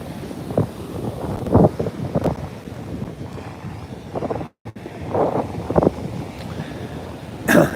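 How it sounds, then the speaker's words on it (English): Ocean waves breaking on a beach during a walk, with repeated rushing surges under heavy wind buffeting the microphone and no talking. "Look at these waves."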